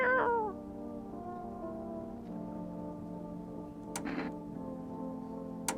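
A cat in the horror video game No I'm Not a Human 2 gives a short falling meow at the start, followed by a steady low hum and a brief burst of noise near the end.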